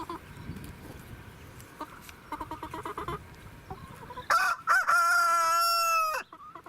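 A rooster crows loudly and close by in a backyard flock with guinea fowl, a long drawn-out call near the end preceded by softer clucks and bird chatter.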